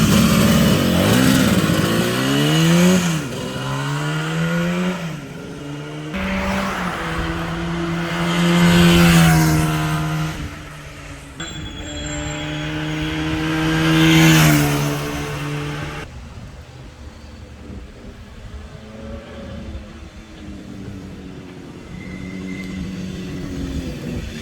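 A two-stroke Bridgestone 350 GTR motorcycle engine revs hard and climbs through several gears, each rising whine cut by a shift, loud and close, then fades into distance.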